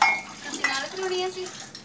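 Dishes and pots being washed by hand in a home kitchen during a deep pre-Diwali cleaning, with clinking metal utensils and scraping under a faint running-water wash, close and moderately loud.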